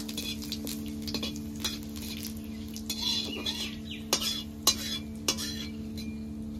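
Bay leaf, dried chillies and whole cumin are stirred in hot oil in a pan, with a spatula clicking and tapping against the metal over a faint, steady sizzle.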